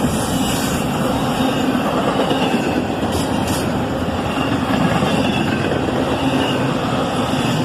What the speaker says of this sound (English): Back to double stack to bring up the rear of the train.